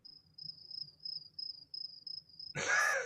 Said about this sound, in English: Is that crickets? Yeah.